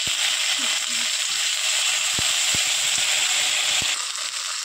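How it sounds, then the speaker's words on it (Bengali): Ginger, cumin and fennel spices fry in a pan for Bengali-style alu kabli. A steady close sizzling hiss carries sparse sharp clicks as they are gently stirred, with no talking. "আদা, জিরে, মৌরি মশলাটা দিয়ে দিলাম। এবার হালকা হালকা নেড়ে নেবো।"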